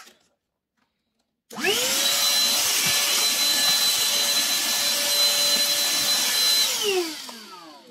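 A handheld vacuum cleaner starts up after a brief silence and runs with a loud, steady high-pitched whine and airflow rush for several seconds, then winds down as it is switched off.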